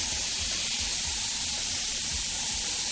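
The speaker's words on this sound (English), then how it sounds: "we can build up our nice wide spray first" Airbrush spraying paint in broad, wide passes, a steady close airy hiss with faint low rumble beneath, continuous throughout.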